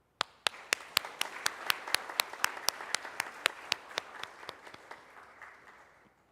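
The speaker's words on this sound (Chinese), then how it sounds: "我们再次鼓掌。" A church congregation claps after a solo hymn at a Sunday worship service, with a steady, even rhythm of about twenty claps that slowly fades out.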